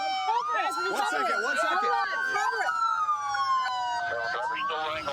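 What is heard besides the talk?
police car siren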